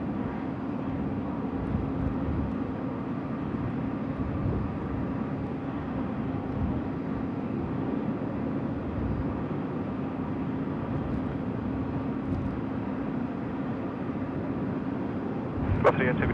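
A Sky Cargo aircraft on final approach to runway 16 right at Sydney Airport at night gives a steady, distant jet rumble and drone that holds evenly throughout, with a faint brief click near the end.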